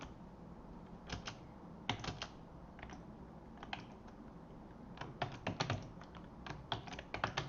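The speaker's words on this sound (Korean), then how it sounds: "일단 여기다가 타이핑을 한 다음에 설명을 해드릴게요" Keystrokes on a computer keyboard come in short bursts and scattered single taps, close and fairly quiet, with no voice over them.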